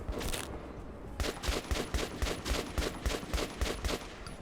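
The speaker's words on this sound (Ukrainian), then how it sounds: "Ну там стріляє." Rapid, evenly spaced gunshots in the video game Metro Redux fire in a steady automatic burst after a brief opening volley, loud and punchy with no talking.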